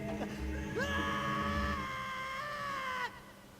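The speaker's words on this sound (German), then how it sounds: "Ja, verständlich, dass Link da ein bisschen schreit." Link screams while falling in The Legend of Zelda: Ocarina of Time Master Quest, a long, sustained, tonal game yell that rises then holds for about two seconds over a steady background hum before cutting off abruptly.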